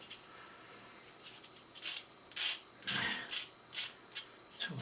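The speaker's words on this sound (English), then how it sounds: "we're sanding those little bits down" Abrasive rubbing on small parts of a Queen Mary 2 scale model, heard as a series of short, soft rasping strokes in irregular rhythm that grow more distinct toward the end, close and fairly quiet.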